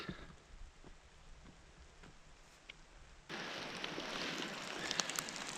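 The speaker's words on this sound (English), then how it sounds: "Starting to rain again." Steady hiss of rain falling in the Carpathian mountains, quieter at first and then suddenly louder and denser partway through, with no talking.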